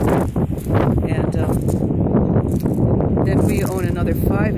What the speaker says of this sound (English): It's really sunny today and very windy out here today.